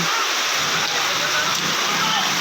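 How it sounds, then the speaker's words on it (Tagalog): Light rain falling over a flooding street, a steady broadband hiss of drops and running water that stays even throughout, with someone talking over it. "konting ulan pa lang wala pa nga sa isang oras yung ulan tsaka hindi masyadong kalakasan yung ulan"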